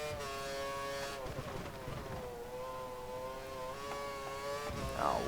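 Formula One race car engine in F1 2013 at the Estoril circuit, a high-pitched continuous whine that shifts in pitch with a shift near the end, steady and close.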